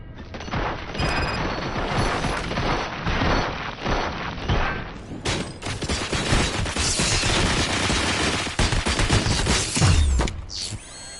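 Heavy gunfire in the Robocop Rogue City video game, with dense, continuous bursts, clanking mechanical impacts and a deep boom near the end, loud and close throughout.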